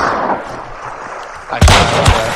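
Gunshot in the video game Hunt: Showdown, one loud close blast with a booming echo, then a second sharper shot a moment later, over low game ambience.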